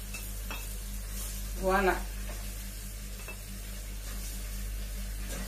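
Tomatoes and bell pepper frying in a pot for a cassava-leaf and smoked-fish stew, a soft steady sizzle with a brief clatter of a utensil stirring against the pot, and a short spoken word over it.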